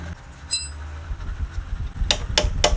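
Three sharp metallic hammer taps on a Yamaha Fino/Mio front fork part strike in quick succession near the end, preceded by a faint clink, over low background rumble.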